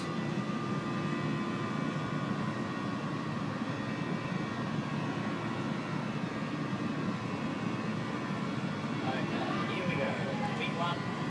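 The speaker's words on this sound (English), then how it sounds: "Nose of the aircraft start to lift off" Boeing 737 rolling down the runway for takeoff at Christchurch airport in a flight simulator, a steady loud jet engine roar with continuous broadband rumble throughout, while a person talks over it.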